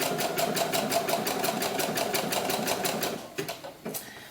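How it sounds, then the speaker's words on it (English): Sewing machine stitching doll gloves, a steady rapid needle rhythm running close and loud for about three seconds before slowing into a few separate final stitches. "I just turned my machine around and came back and stitched the opposite direction"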